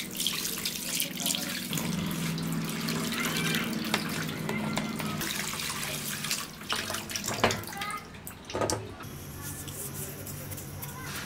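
Tap water runs steadily into a sink while freshly cut fish is rinsed by hand, with splashing and small clatters throughout. Near the end it breaks into uneven bursts.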